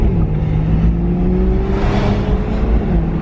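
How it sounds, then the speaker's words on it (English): A BMW M3 with a new Valvetronic exhaust, still somewhat cold and in drive with valves closed, pulling away under light acceleration, giving a steady, loud, close engine drone with a slowly rising tone. "So let's go this way and just get a little acceleration"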